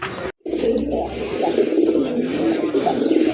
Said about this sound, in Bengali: আরেকটা পেয়ার রাসগোল্লা কবুতর